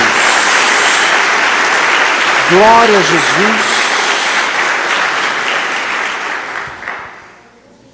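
A church congregation claps in sustained, loud applause during a sermon, while a voice sings out a short praise over the clapping before it fades away.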